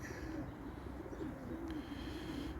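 Domestic pigeons in a flock coo steadily and close by, a soft continuous murmur holding through the whole stretch with a faint chirp now and then.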